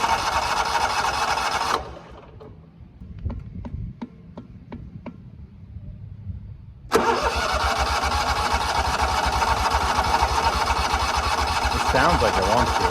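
A race car at Stafford Speedway cuts out, leaving a few sharp clicks and faint rattles in near-silence, then its engine catches abruptly and holds a loud, rough, steady idle.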